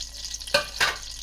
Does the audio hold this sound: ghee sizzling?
yes